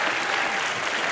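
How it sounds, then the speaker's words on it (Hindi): A comedy talk-show studio audience breaks into loud applause for the guests, a continuous broadband roar of clapping that stays level from start to finish with no voices on top. "जोरदार तालियां इनके लिए"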